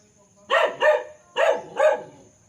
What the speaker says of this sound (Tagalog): May aso sa harapan.